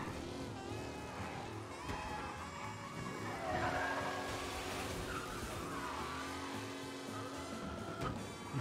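A car in the video game Mafia Definitive Edition brakes hard from high speed and skids, engine roar and tire squeal continuous and close over about eight seconds.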